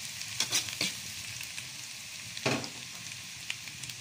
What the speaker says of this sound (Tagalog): Inisa muna natin sa bawang luya.